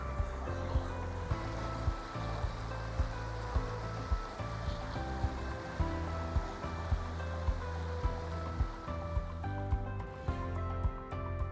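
Water from a mountain creek near Fox Creek Falls in the Comanche Peak Wilderness rushes steadily on a hot day, a continuous broadband wash with faint pulsing, no talk over it.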